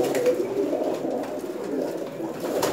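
Rare teddy pigeons, a tall breed, coo steadily at close range in a loft, a continuous low cooing murmur with no voices.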